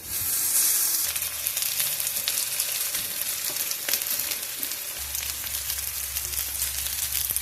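Green beans frying in a pan for a chicken Parmesan meal, giving a steady, close, continuous sizzle and crackle with a low hum underneath and no talking.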